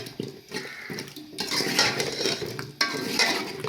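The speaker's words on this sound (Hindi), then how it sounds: "2 से 3 मिनट के लिए इसको तेज आंच पे भूनते हैं।" A utensil scrapes and clatters against a pan as potatoes and boiled spinach are stirred over high heat, with a soft sizzle beneath; scraping strokes come in a few bursts, close and fairly quiet.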